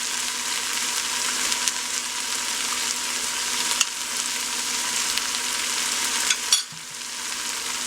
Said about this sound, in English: we're going to sauté these until they're tender